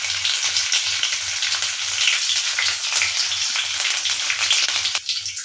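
Green chilli pieces fry in a hot tempering of cumin and mustard seeds for a potato curry, giving a steady, close hiss of sizzling oil with a faint rhythmic low thumping underneath and no talking.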